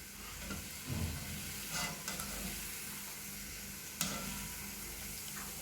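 Milk powder gulab jamun fry quietly in hot oil with a soft, even sizzle, broken by a few clinks and scrapes of a spoon turning the balls.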